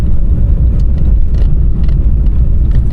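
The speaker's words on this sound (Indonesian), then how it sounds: "mobil kencang-kencang banget ya." Cars roar past on a busy road at night on a long drive from Jogja toward Depok, a loud, dense, continuous low rumble of close traffic without pauses or talk.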